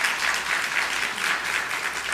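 A church congregation claps loudly and steadily for a family standing before them during a Sunday morning service, a continuous wash of hands with no voices over it.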